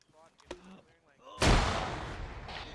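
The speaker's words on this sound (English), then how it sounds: "We got hit with another fucking grenade." A grenade explodes in the military shooter game ArmA 3: a single loud, sudden blast followed by a long, decaying rumble, with a few faint sounds and voice-like bits just before it.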